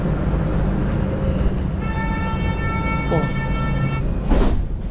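A Lisbon subway train rolls along with a loud, steady rumble, and a high whining tone rises partway through before fading under the ongoing rail noise.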